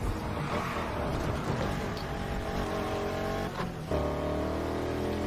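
A car engine in a driving video game revs and roars steadily with shifting pitch, dips briefly, then settles into a lower, even drone, with no talking during it.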